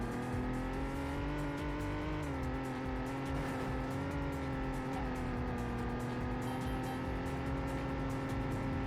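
In the Sega Dreamcast racing game Vanishing Point, a car engine drones loudly and steadily, its pitch dipping and wavering as it strains up a hill, with no talk over it.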